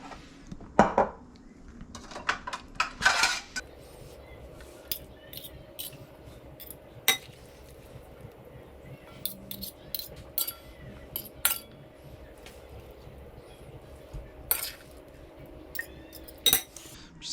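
Dishes and cutlery clink while mango salad is plated, with sharp scattered taps and knocks spread across the clip over a quiet kitchen background.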